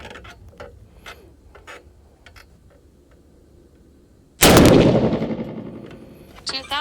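Quiet clicks and mechanical handling lead up to a single loud, sharp rifle shot fired with reloaded brass, followed by a decaying echo and a few more faint clicks.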